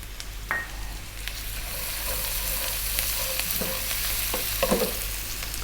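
Ginger garlic paste fries in a pan for Bengali fish curry, making a continuous close sizzle broken by occasional stirring scrapes and light clicks, with no voices.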